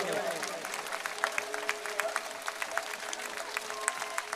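Crowd applause at a political rally in Banaskantha, Gujarat, with steady dense clapping throughout and a voice over a public-address system carrying above it.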